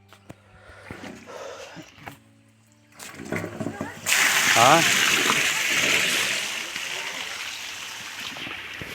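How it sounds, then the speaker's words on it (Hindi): Water being filled, splashing and pouring loudly and steadily from midway through, after quieter rustling and handling noises; a person speaks briefly. "तो चलो पानी भर लो"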